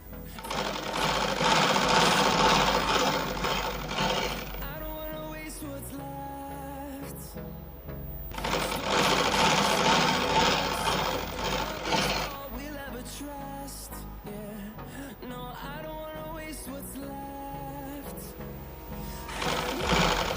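A sewing machine stitches a straight seam on a four-panel petticoat in long, loud, even runs of rapid needle rattle, pausing briefly twice between bursts.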